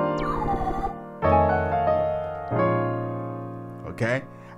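Gospel piano plays a colorful 7-3-6 chord movement, three rich sustained chords struck in sequence with a short melodic flourish, near and moderately quiet, with a voice heard briefly at the start and end.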